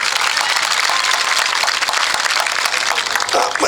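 Audience applause for the girls at a Marathi motivational talk, a sustained loud burst of many hands clapping together, steady and dense throughout with no voices over it.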